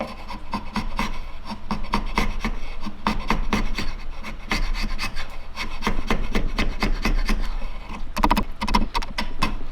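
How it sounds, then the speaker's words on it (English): Chisel carving hard rock maple wood for fishing bait bodies, a close, loud and continuous run of rapid rasping, scraping strokes with no talk. "This is like rock maple. Let's get the chisel out."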